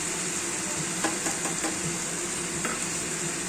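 Drumstick flowers frying in a pan, freshly dusted with spice powder and being stirred: a steady, close sizzle with occasional light scrapes and knocks of the spoon, no speech.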